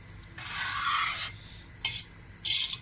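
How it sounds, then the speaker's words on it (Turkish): Water and marrow-bone broth stirred in a pot, with a spoon scraping and swishing for about a second, then two short, brighter scrapes against the metal near the end, quiet and close with no talk. "Evet şöyle bir karıştıralım."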